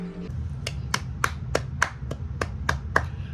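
Eight or nine sharp hand claps at a steady, slightly uneven pace, crisp and fairly close over a low constant background hum, with no talking.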